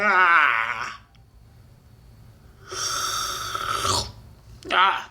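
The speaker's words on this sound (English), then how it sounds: "man, I can't stop yawning." Long, drawn-out yawns with voiced groaning tones, close and fairly loud, separated by a quiet stretch, a shorter yawn-like sound trailing at the end.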